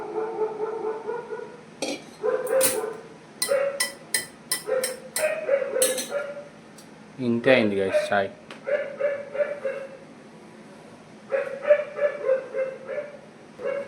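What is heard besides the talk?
dog barking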